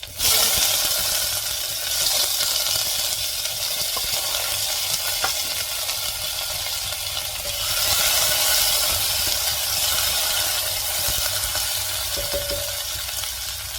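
Steady loud sizzling as chopped shallots and onions fry in a pot for a mushroom biryani, close and continuous with faint stirring scrapes, and no voices.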